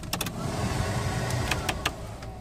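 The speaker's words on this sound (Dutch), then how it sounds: "Hier de ventilator." The ventilation blower fan runs inside a 1987 Volvo 740 GL 2.3, giving a steady, close airy whoosh throughout, with a few sharp clicks over it.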